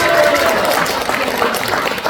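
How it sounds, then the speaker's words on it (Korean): An audience at a launch ceremony in an art hall in Seoul applauds with loud, dense, sustained clapping that fills the whole moment. "다시 한번 힘찬 격려의 박수 부탁드리겠습니다"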